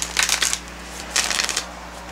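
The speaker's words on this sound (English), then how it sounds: "Let's give it a shuffle." A deck of cards being shuffled in two short riffling bursts, crisp rapid fluttering close by with a quiet pause between, no talking.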